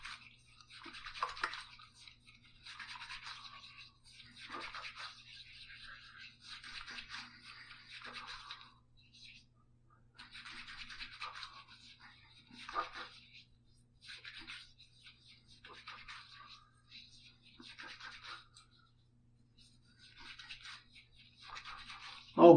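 Face being washed and lathered before a razor-blade shave: quiet, close, bristly scrubbing in repeated bursts separated by short pauses.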